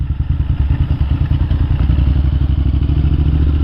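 A motorcycle rumbles close by at low speed, its engine throbbing in a loud, even pulse while it rolls up to a biker cafe.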